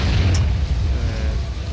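A heavy, rumbling explosion from an Iron Man mod in the video game GTA IV, with a loud low boom that fills the short clip and rolls on without a break.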